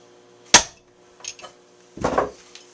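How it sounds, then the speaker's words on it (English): A sharp metallic hammer tap on an AR-10 rifle's quad rail, followed by a couple of softer knocks and scrapes, close up in a quiet room. "use a hammer to move it just a hair at a time"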